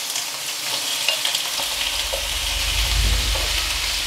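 Shrimp drop into a hot pan of oil and start to fry, a loud, steady hiss and sizzle that swells partway through and carries on without talk.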